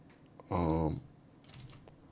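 A couple of faint computer keyboard key presses, brief and light, around a short burst of voiced sound during a Plasticity 3D modeling tutorial.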